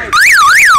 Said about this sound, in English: Should use the sirens.